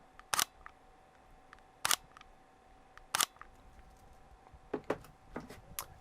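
A Sony A6500 mirrorless camera fires its shutter at 1/30 second, three crisp, close mechanical clicks spaced about 1.5 seconds apart, followed by a cluster of softer clicks and handling noises in a quiet room.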